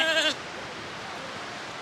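A sheep gives one short bleat at the start while waiting to be slaughtered in autumn on the Faroe Islands. After it comes a quiet stretch of faint outdoor background.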